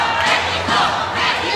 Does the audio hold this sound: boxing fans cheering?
yes